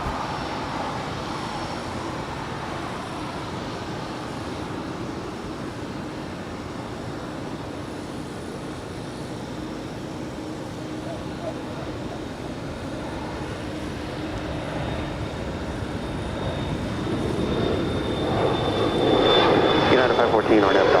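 An American Airlines Airbus A321 jet arrives at LAX from JFK, a steady broadband engine roar that swells louder near the end as it comes closer, with an airport radio voice in the background.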